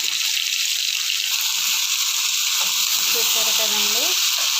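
Pieces of ivy gourd fry in a pan with a constant, close sizzle and faint stirring rattles, with a voice briefly heard beneath near the end.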